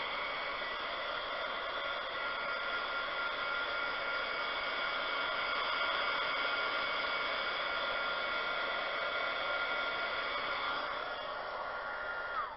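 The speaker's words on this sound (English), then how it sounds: "I need to get my blow dryer, heat gun, and blow out" A heat gun blows steadily over fresh resin for a windchime, giving a loud, continuous whooshing hiss that holds unchanged for several seconds with no talk.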